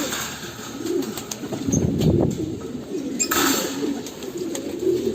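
Pigeons coo softly in a loft, low throaty calls rising and falling under a faint background hum, with a few light clicks and rustles nearby.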